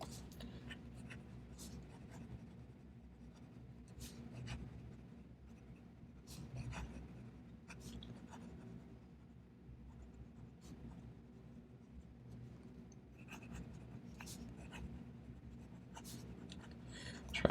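Scratching of a fine nib on a brass fountain pen, loaded with absinthe-green Diamine ink, moves quickly across paper in close, faint strokes over a low steady room hum.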